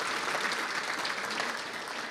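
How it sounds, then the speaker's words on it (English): An audience at an economic summit applauds its sponsors, producing a steady, dense wash of clapping that holds at a constant level for a couple of seconds. "a round of applause for all of them"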